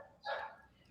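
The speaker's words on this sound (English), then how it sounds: "Sorry about the dog. It's not my dog" A dog that is not the household's own lets out a single short bark, fairly faint and somewhat distant, in an otherwise quiet room.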